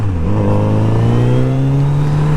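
A 2019 Kawasaki Z900RS motorcycle accelerates hard, its engine note rising smoothly in pitch as it pulls, loud and close over a couple of seconds, with no speech.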